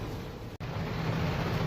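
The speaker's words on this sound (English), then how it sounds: "Raining." Rain falls outdoors over a yard, a dense, steady hiss that fills the whole clip apart from a brief dropout near the start, with no voices.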